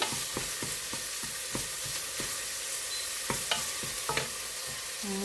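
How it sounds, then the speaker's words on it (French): Onion sautés in a pot for lentil soup, a soft constant sizzle broken by sharp spoon taps and scrapes against the pot. "commencer toujours par faire revenir l'oignon"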